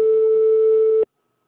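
A telephone busy tone after a dropped call, a single steady beep lasting about a second, loud and close, then abrupt silence.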